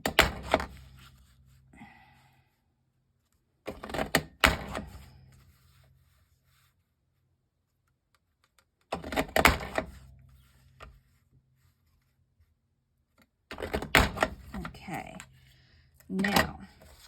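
A grass punch die cutting through card stock makes repeated bursts of cranking and rubbing, four separate passes with quiet gaps between them, close and fairly loud.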